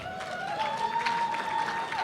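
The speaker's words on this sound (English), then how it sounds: "That might be something you want to applaud." An audience at a powerlifting nationals competition applauds in a sustained burst of clapping, heard through a steady tone and venue noise.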